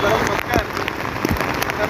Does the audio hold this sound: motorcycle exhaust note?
no